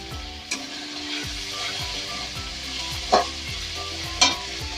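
Spice paste with cumin powder, chilli powder, salt and sauce frying in a pan for a katla fish kalia, a steady close sizzle with three distinct spatula scrapes and knocks against the pan, no voices.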